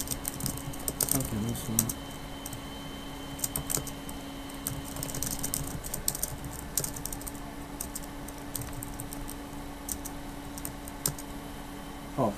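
Typing on a computer keyboard, with bursts of close, crisp key clicks scattered across the clip and a person briefly speaking over them.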